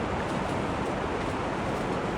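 Steady roar of river rapids in a misty mountain forest valley on the Makalu trek in the Himalaya, a dense continuous rushing noise with no breaks, fairly loud and even throughout.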